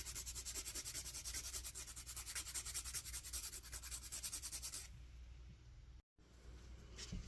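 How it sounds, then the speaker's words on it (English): A guitar thumb pick is sanded at an angle to form a bevel, giving steady, rapid, close rasping strokes in even rhythm that stop near the end, followed by faint handling noise. "So I'll do this at an angle like this on this side of this side, and I'll get a bevel."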